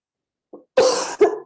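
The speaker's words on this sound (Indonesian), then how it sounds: "ini sambil batuk-batuk ya" A woman coughs several times during an online Islamic talk: a faint short cough followed by two louder, close, harsh bursts, with no speech between them.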